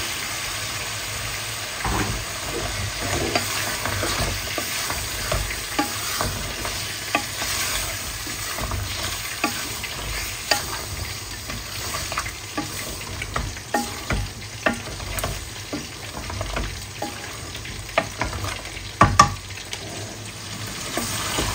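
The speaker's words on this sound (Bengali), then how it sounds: "টমেটোটা কিন্তু আমি কষাই ফেলছি।" Spices with chopped potatoes and tomatoes fry and get stirred in a pan for a Bengali fish and tomato dish, a steady close sizzle with frequent scraping stirs throughout, no talking.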